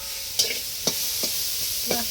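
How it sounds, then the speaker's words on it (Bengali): Radish greens frying in a pan with onion and green chilli, a steady background sizzle broken by a few sharp stirring scrapes, close and moderately loud with no talking. "আর পেঁয়াজটাও ভালো করে ভাজা হয়ে যাবে।"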